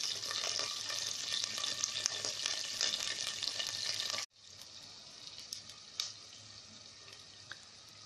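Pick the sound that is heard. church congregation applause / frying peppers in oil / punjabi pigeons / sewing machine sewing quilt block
frying peppers in oil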